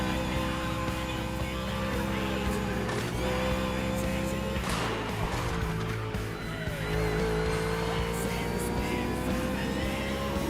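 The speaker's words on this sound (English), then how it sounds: "I like the way the engine sounds on this car" A loud NASCAR Cup stock car engine in the video game The Crew Motorfest roars continuously at high revs, shifting pitch, with tire squeal and skidding noises mixed in.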